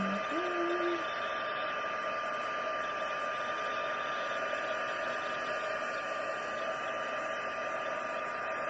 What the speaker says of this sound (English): you add the heat tool and that'll dry it